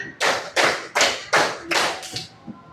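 A fifth-grade class claps together in a quick, evenly spaced run of sharp unison claps, close and loud, ending with a fainter final clap.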